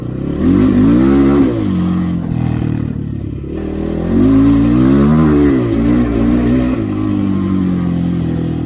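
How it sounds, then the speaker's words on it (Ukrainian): A KOVI MAX 300 motorcycle engine revs loudly and close by, rising and falling in pitch through two long throttle blips with a brief dip between them, its rough, clattery note filling the whole stretch. "Ну Мотор коротше, голосно працює."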